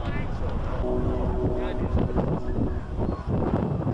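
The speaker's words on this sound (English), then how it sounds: "Now the wind's starting to pick up here." Wind gusts across an outdoor football ground during an under-16s grand final, a steady rumbling buffet on the microphone with a faint tonal hum and indistinct voices underneath.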